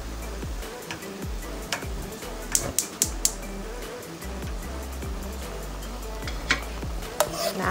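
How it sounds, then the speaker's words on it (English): Onions and ugu leaves fry in oil for ayamase stew, giving a steady close sizzle broken by scattered clicks and knocks of stirring. "Fry a little bit for like 2 minutes."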